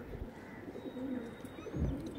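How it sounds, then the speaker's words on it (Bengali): Kaldama pigeon cooing in low, soft repeated coos, close by, over a steady background hum with faint higher chirps. "দেখুন কালদমা পায়রা"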